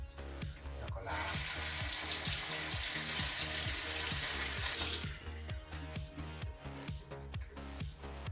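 Sea crab being washed under a running tap while making a Thai spicy crab salad: a steady hissing gush of water for several seconds, then cutting off, over a regular rhythmic background beat.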